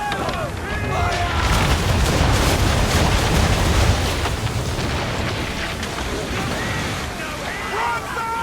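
Ship's cannon broadside in Assassin's Creed III, heard as a dense run of heavy booms and rumbling blasts over churning waves, with voices shouting in the mix.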